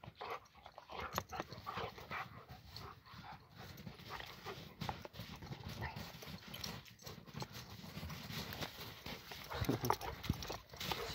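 Kangal and Akbash dogs scuffle and snarl in a rough play fight, with rapid teeth snaps and scrabbling paws; a voice murmurs faintly in the background.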